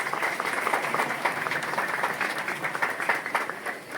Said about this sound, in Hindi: तो जोरदार हाथ ताली।